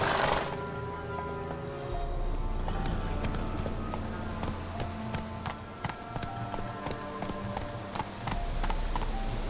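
Roach the horse gallops in The Witcher 3, hooves clip-clopping in a steady, fast rhythm over a continuous game ambience and music bed, close and clear throughout.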